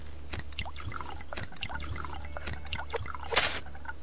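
Water poured onto crops in the survival video game Subsistence, a steady trickling, dribbling stream splashing close by, ending in a brief louder gush near the end.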